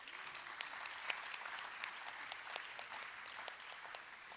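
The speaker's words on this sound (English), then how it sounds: "How about a huge round of applause for Srimati Rashmita Amin?" Audience applause at a classical Indian dance arangetram recital honoring a dance guru, a fairly faint, steady wash of many hands clapping with a few sharper claps standing out, no voices.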